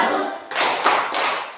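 A classroom group of teachers claps together in a salute, a dense burst of applause-like hand claps in a few rhythmic surges, close and loud throughout.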